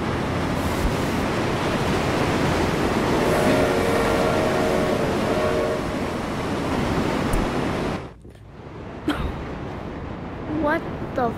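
A train in the racing game Forza Horizon 4 roars past as a loud, steady rushing rumble for several seconds, then drops off to a quieter background with a few faint chirping sounds.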